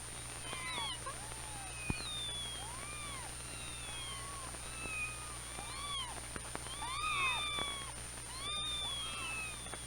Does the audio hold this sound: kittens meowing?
yes